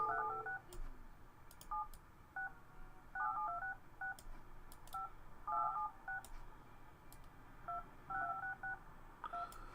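Telephone keypad tones sound in the building-management game Project Highrise, a quick series of faint, short beeps in irregular bursts over a low background hum.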